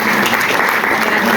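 An audience at a press conference introducing a basketball head coach applauds student athletes, a loud, dense, steady burst of clapping close by that carries through the whole moment.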